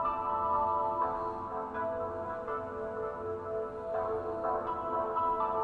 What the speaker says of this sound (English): What you're hearing is the high cut on the actual delay